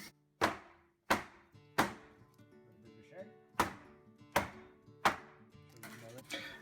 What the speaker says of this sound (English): Bang the mould down.